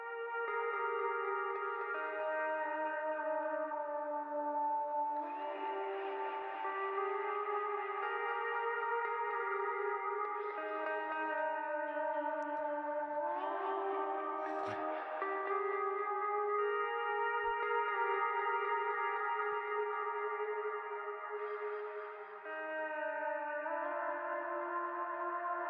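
Played notes pass through a delay effect set to high feedback, so the repeats pile up into a smeared, echoing pad of held chords that shift every few seconds, steady and fairly quiet throughout.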